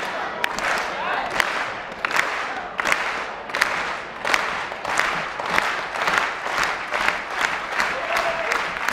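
A crowd at a javelin championship claps in a steady rhythmic beat, sharp, regular claps repeating about twice per second over crowd murmur.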